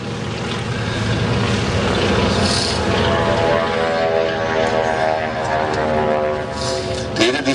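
An Antonov propeller aircraft flies at the Roskilde Airshow 2011 with a loud, sustained droning engine roar that swells and shifts in pitch as it passes. Announcer-style talk runs over the engine noise.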